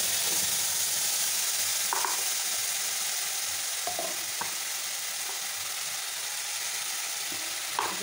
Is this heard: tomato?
yes